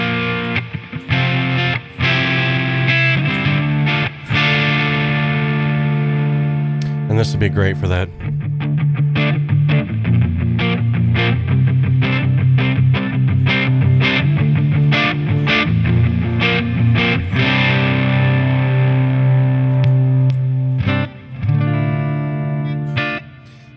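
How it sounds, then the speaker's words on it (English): Electric guitar run through two stacked distortion and overdrive pedals on a worship pedalboard, playing loud, sustained driven chords with steady strums, while a voice talks briefly over it. "the beautiful part about having distortion or overdrive pedals is the fact that you can stack them"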